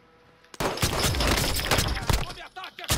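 Gunfire in Call of Duty Warzone: a loud, sustained burst of rapid shots erupts after a brief quiet moment, then cuts off with a couple of trailing bangs.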